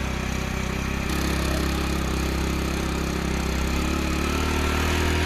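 A motorcycle engine climbing a slope runs steadily with a constant low throbbing drone, close and loud, shifting slightly in tone after the first second.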